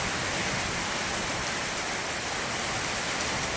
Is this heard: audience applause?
no